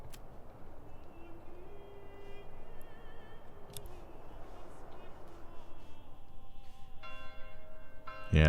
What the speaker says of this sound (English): The church's bells are ringing.